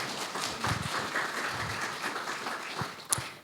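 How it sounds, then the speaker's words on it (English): A round of audience applause at a Voices for Life event sounds as a thin, moderate patter of clapping that continues steadily for a few seconds, with a sharp tap near the end. "Let's give another round of applause for Voices for Life and for Melanie"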